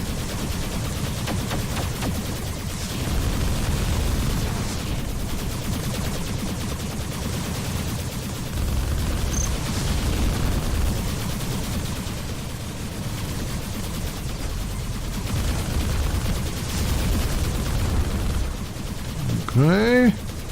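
Turrets exploding amid constant gunfire in the video game Arc Savior, a dense continuous barrage of shots and blasts throughout, with a brief swooping effect at the very end.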